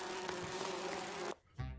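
Bees buzz in the video game Grim Fandango, a steady droning hum with tonal overtones that holds for over a second, cuts off abruptly, then returns as a low swell at the end, heard alone without talk.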